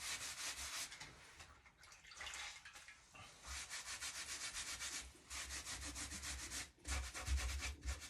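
Chalk paint being rubbed on furniture to distress it, a continuous close, quiet scrubbing and rasping with brief pauses between strokes.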